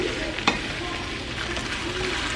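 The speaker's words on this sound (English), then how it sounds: "Okay, so I'm just going to stir this." Sausage scramble is stirred in a frying pan, giving a steady broadband sizzle with a single sharp scrape of the utensil near the start, close and moderately loud, with no talking.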